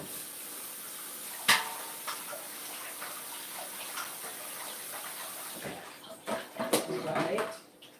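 Asparagus spears are rinsed under a running kitchen tap, a soft steady splash of water with a few clinks and knocks and a louder burst of rinsing near the end.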